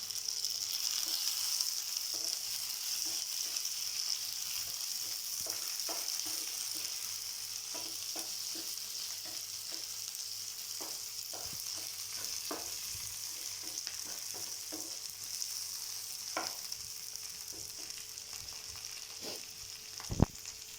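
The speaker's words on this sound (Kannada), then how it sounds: "ಇವಾಗ ಟೊಮೆಟೊ ಹಾಕ್ಕೊತೀನಿ. ಮತ್ತು ಚಕ್ಕೆ ಲವಂಗ ಹಾಕ್ಕೊತಾ ಇದ್ದೀನಿ." Tomato, cinnamon and cloves frying in a pan for sprouted horse gram sambar, a steady close sizzle running throughout with scattered small pops and crackles and a brief louder knock near the end.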